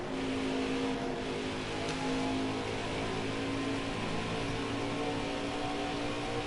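Race car engines in NASCAR Heat 5 at Darlington drone loudly and steadily throughout, a dense sustained roar with a held engine tone and no talk.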